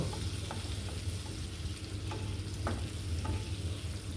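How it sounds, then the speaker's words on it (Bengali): Chopped onion stirred in white cooking oil in a frying pan for a layer chicken curry, with a steady close sizzle and a few sharp scraping strokes of the spoon. "আমি একটা প্যানে তেল নিয়েছি, সাদা তেল ব্যবহার করেছি। তাতে কিছুটা পেঁয়াজ কুচি দিয়ে নাড়াচাড়া করে নিব।"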